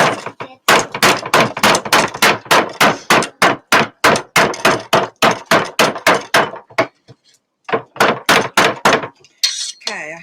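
A knife chops ingredients for pork fritters on a board in quick, steady, loud strokes close by, with a short pause before a final burst of cuts.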